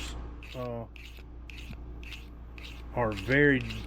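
A traditional broadhead sharpened with quick, evenly spaced rasping strokes, about two per second, close by; a voice speaks briefly near the start and again toward the end.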